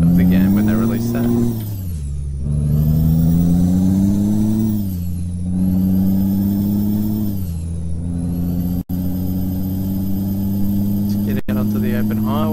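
A Peterbilt 389 truck in Euro Truck Simulator 2 hums with a steady, loud engine drone, its pitch rising and falling through gear changes, with a person talking over it throughout.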